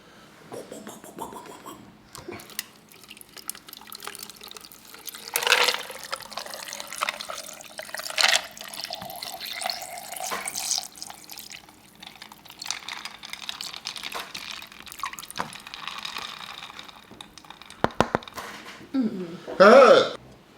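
Water pours into a glass for drinking, the trickle rising in pitch as it fills, with scattered clicks and taps and brief talk near the end.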